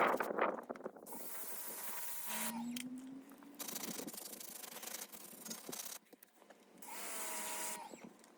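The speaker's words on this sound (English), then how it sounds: "We just scrubbing them with that stiffer brush" A stiff brush scrubs grimy wheel calipers from a Jeep Wrangler during a detail, giving a close, bursty rubbing and scraping with short pauses between strokes and no talk.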